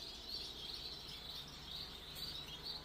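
Finches at a show-bird breeding farm in Bangkok chirp in a dense, steady chorus of high twittering calls, moderately near and continuous throughout, with no talking.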